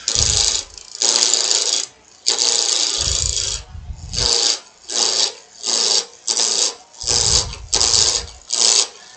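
A roughing gouge takes peeling cuts on a long-stem wooden goblet spinning on a wood lathe, producing loud, close, rasping shears in repeated bursts with short gaps between passes.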